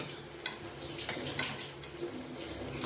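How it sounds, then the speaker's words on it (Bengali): Chicken frying in a pan as it is stirred and cooked down. A steady soft sizzle carries a few light clinks and scrapes of a utensil, fairly quiet and close, with no talking. "এইবার চিকেনটাকে দিয়ে ভালো করে কষে নেব"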